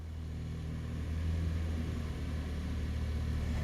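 A 2018 Buick Enclave's 3.6-liter V6 engine runs smoothly with a low, steady hum, a faint rumble of a mid-size engine heard on its own without talk.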